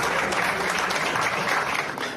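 A crowd greets a returning person with an ovation, loud sustained applause of many hands clapping close and dense, tapering slightly at the end.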